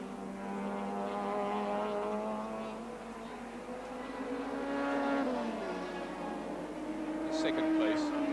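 Racing cars at the 1983 Sandown 400 touring car race, engines droning and rising in pitch as they pass at a distance, with a commentator talking over the steady roar.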